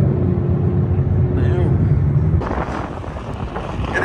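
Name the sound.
wind blowing into microphone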